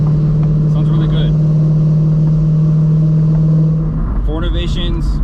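A supercharged S197 Ford Mustang with a Paxton Novi 2200 blower drives with a loud, steady droning engine note, then the drone drops away near the end into rougher rumbling and a brief burst of whine.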